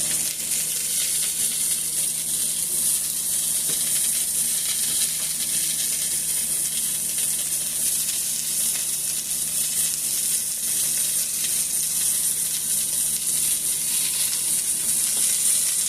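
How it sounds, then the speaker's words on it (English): Steady, fast sizzling of turkey meatballs frying in a pan on low heat, a continuous crackling hiss with no pauses, close and fairly loud. "You can still hear how it's still frying real fast."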